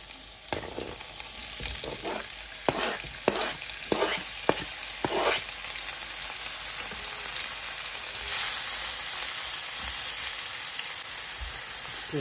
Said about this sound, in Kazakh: Енді осы қыздырылған табамызға осы овощтарымызды қуырамыз